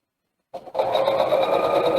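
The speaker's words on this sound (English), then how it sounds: "Just sew along 1/4 inch all around the top." A sewing machine stitches a quarter-inch seam around the top of fabric on a beginner sewing project. After a brief start, the motor settles into a steady, close, continuous running hum, with no talking.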